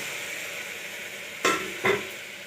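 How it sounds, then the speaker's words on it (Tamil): Tomatoes sautéing in a pan for curry, a soft steady sizzle with two sharp stirring scrapes near the end, close and without talk. "ஸோ இப்போ நம்ம வந்து தக்காளி வதங்கிட்டுருக்கோம்"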